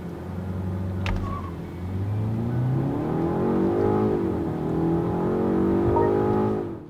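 A 2024 BMW 5 Series accelerates hard from a standstill, its engine rising through the revs with a gear change midway. It is heard from inside the cabin as a steady, strong rumble and drone, with no talking.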